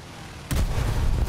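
Aircraft guns fire in an Air Arcade battle: after a quiet moment, a sudden heavy burst of cannon fire breaks out, loud and booming, rumbling on to the end.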